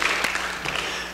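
A church congregation claps for a missionary who is out training trainers, a brief burst of steady, moderately loud applause filling the room for just over a second.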